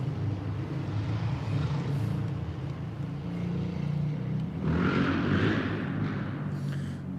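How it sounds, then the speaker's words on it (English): A noisy motorbike passes on a road running alongside a river, its engine rumble rising to a louder, rougher peak midway before easing off, heard over steady outdoor background noise with no talking. "Noisy motorbike."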